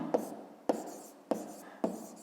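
A pen or pencil writes on paper in a quiet room, with four short scratching strokes spaced roughly half a second apart, close and soft.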